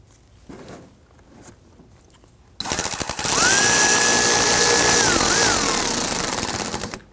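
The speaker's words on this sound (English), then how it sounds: "We want to go ahead and get our screws installed on our fender liner." A power drill drives screws into the front fender liner of a 2009-2017 Volvo XC60, starting abruptly after a quiet pause with a loud, continuous whirring drone and a rising whine that holds for about four seconds before easing off.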